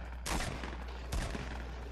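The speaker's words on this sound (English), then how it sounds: "What is he shooting at?" Two sharp bursts of gunfire in a Fortnite match, loud and close, spaced under a second apart over a steady game backdrop.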